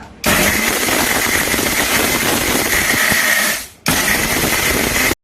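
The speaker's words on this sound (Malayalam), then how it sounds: "മിക്സിയിൽ നന്നായി പൊടിച്ചെടുക്കുക" A mixer grinder runs at full speed grinding roasted garam masala spices, a loud steady whirring roar that stops briefly and then starts again.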